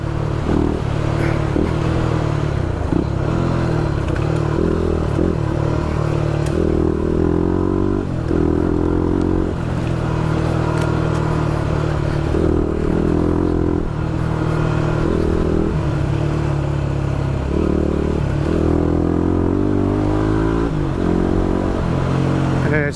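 Motorcycle ridden on a winding road in the Barrington Tops, engine droning steadily with repeated throttle shifts and rises in pitch, loud and close with wind rush throughout.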